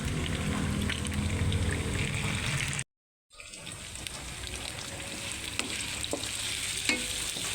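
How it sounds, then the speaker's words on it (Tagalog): Potatoes and carrots sizzle and crackle steadily in hot oil, with a brief silent gap before the frying resumes more quietly, punctuated by small pops. "Dito ko na rin ipiprito itong patatas at saka carrots."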